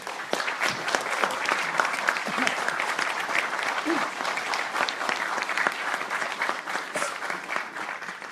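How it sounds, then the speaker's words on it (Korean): Steady, dense applause from a forum audience welcoming a former president to the stage, sustained and even throughout with no break. "큰 박수로 문재인 전 대통령을 맞이해주십니다"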